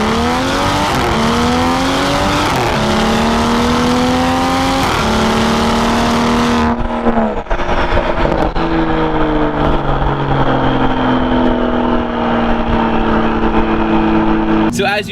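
Car fitted with an AWE non-resonated performance mid pipe exhaust, driven in sport mode, revving loud and close through rising gear pulls with clear shifts between them, a continuous raspy engine note throughout.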